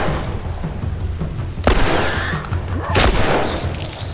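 Two sharp gunshots from The Last of Us, fired about a second apart over a low, rumbling game ambience, loud and close.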